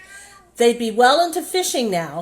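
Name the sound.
cat meowing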